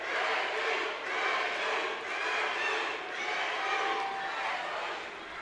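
A partisan crowd at a live mixed martial arts bout cheers and shouts in a sustained, roaring wash of voices that rises and falls slightly, heard at a moderate distance without commentary.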